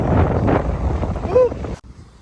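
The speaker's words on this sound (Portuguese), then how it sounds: "Que vento gelado!" Cold wind gusts against the microphone beside a glacier in Norway during a summer hike, a loud low rumbling buffet lasting nearly two seconds before cutting out abruptly, with faint voices mixed in.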